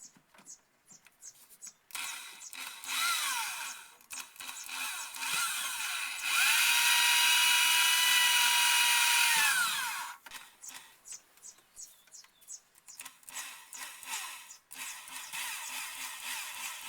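Power drill boring holes in metal for a homemade cylinder head valve spring removal tool, several whining bursts that rise and fall, with one long steady run in the middle, close up in a workshop.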